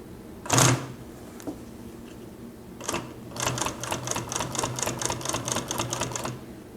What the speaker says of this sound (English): Hold back your threads and sew off a sample to see if you're in the right ballpark for your upper thread tension.